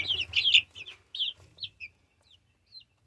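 Young chickens in a brooder giving quick, high chirps and soft clucks in small clusters that thin out into a few scattered peeps, fairly close.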